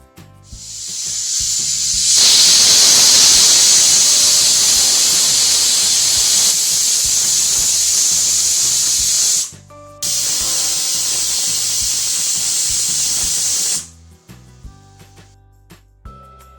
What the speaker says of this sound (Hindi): हमने कुकर की 6 सीटी लगने तक इसे पकाया है।